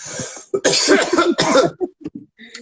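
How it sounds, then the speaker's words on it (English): Several harsh, close coughs in a row, loud bursts separated by brief pauses, ending with a few smaller throat sounds. "I can't mute my mic when I'm coughing."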